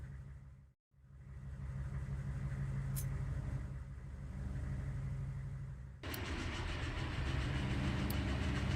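A train rolls steadily through the industrial world of Captain of Industry, a continuous mechanical rumble with faint clicking, broken by a brief dropout early on and growing louder and fuller for the final few seconds.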